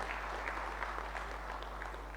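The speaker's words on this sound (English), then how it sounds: "I hope we can clap hands for ourselves, eh?" An audience at a pre-budget consultation meeting applauds steadily for a couple of seconds, a dense patter of many hands clapping at once with a low steady hum underneath.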